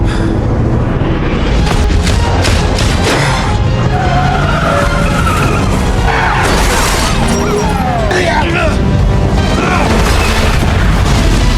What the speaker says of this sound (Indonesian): setelah mobil itu meledak